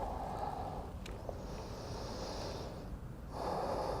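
A person breathing out slowly and steadily during a gentle yoga flow, close and soft, with a second breathy rush near the end.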